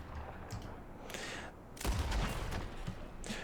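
Gunfire in the Red Dead Redemption 2 video game: several sharp, loud shot bursts cut through a steady game ambience, with the heaviest cluster in the middle and another shot near the end.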